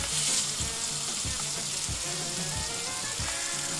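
Macedonian cheese frying in a pan gives a steady, close sizzle with bright crackle, and soft rhythmic scraping or stirring strokes repeat beneath it.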